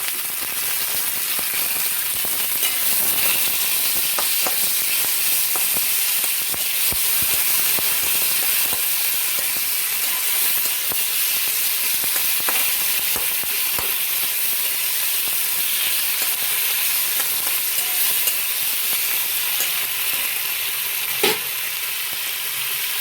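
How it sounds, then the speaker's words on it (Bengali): Green chillies and tomatoes fry in hot oil with a steady, close sizzle and hiss that runs unbroken throughout, with no voices. "তেল গরম হয়ে গেছে, কাঁচা লঙ্কা আর টমেটো দিয়ে দিয়েছি।"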